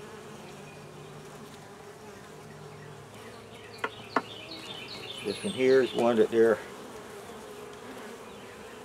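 Honey bees on a hive frame strung with fishing line, buzzing in a low steady hum under a voice, with a few louder buzzing bursts as bees fly close near the end.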